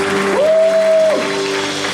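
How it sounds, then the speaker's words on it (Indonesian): A church congregation claps at a worship gathering, a broad, even patter of many hands blended with a held, gliding keyboard tone that swells in the middle and then settles back. "Sekali lagi kasih tepuk tangan yang terbaik untuk Tuhan Yesus."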